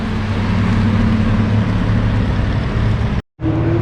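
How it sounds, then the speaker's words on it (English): Lamborghini Huracan Spider supercar with its roof up, its engine roaring loudly and steadily as it passes on a Formula One race track, a sustained close drone that cuts out briefly near the end before resuming. "the loudest car of them all, the Huracan Spider, once again with the roof up"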